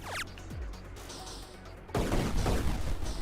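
Shooting in an Atari 50 video game: a short electronic zap at the start, a quieter stretch, then a louder burst of crackling, noisy blasts that continues to the end.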